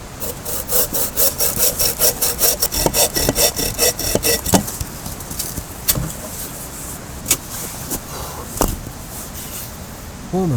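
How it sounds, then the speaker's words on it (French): A small hand saw cuts through firewood at a winter mountain camp, loud rhythmic rasping strokes for about four seconds, then a few scattered scrapes and knocks over quiet outdoor background. "je vais me servir de ce bout de cordelette pour mesurer les sections de bois que je vais scier"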